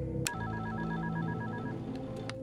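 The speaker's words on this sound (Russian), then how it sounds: "Телефон." A telephone rings in the FNAF Ultra Custom Night video game, a steady electronic ring with short clicks at its start and end. The ring sounds clear and close against a low background hum.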